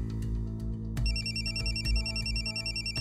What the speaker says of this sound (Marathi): कुणाचा फोन वाजतोय?